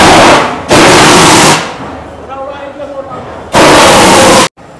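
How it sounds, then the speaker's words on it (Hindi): A pyro gun loaded with sky blue Holi colour powder fires in loud, sharp bursts, one after another, with a quieter lull in between and an abrupt cutoff after the last shot. "अभी दोबारा से हमने इसमें ब्लू कलर का शॉट लगाया, आपने देखा कैसा इसका प्रेशर आया"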